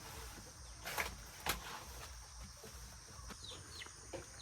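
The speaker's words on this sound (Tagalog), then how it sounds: "Dami ng manok." Chickens cluck and call a few times at a distance over a quiet outdoor background, with a couple of sharper calls standing out.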